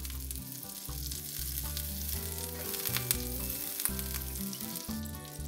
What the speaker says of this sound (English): Melt a little bit of butter onto your favorite skillet.